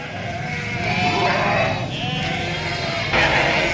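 A flock of sheep bleats in a village pasture in Gujarat, several overlapping wavering calls close by, one after another against a low background murmur.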